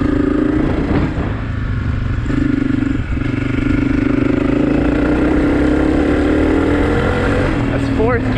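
A 2023 Honda CRF250F dirt bike's engine pulls steadily in fourth gear, a continuous mid-pitched drone with slight rising pitch, heard close up over rushing wind and some clatter.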